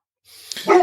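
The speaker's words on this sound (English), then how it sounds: "That's my dog." A dog barks close by indoors, a few short yips rising to a louder bark near the end, with no talk over it.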